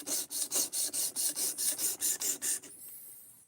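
A knife scrapes back and forth across a small 4-inch by 1/2-inch sharpening stone in about ten quick, rhythmic rasping strokes that sit close and clear, then trail off into quiet.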